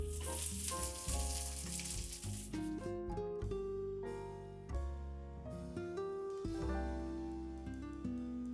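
Peppers and celery stir-fry in a hot wok for a peppered pork dish, a quiet sizzle with intermittent stirring clatter that runs throughout.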